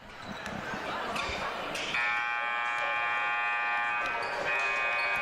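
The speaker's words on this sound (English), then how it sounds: "Three-minute buzzer goes." A basketball gym's three-minute buzzer at a varsity high school game sounds a loud, sustained electronic buzz for several seconds, set against the murmur and squeaks of the gym floor.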